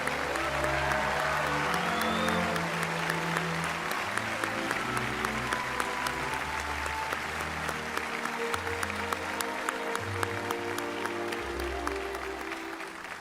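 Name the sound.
audience applause at concert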